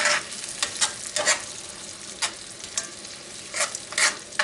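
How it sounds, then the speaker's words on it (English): Onions saute in a frying pan with a steady close sizzle, broken by repeated scraping bursts as they are stirred around. "I'm just going to saute this down a little bit"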